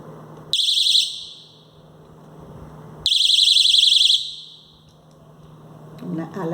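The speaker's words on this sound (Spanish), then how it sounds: "una alarma personal." A personal alarm gives two loud, piercing, warbling shrieks, each lasting about a second and separated by a short gap, close to the listener.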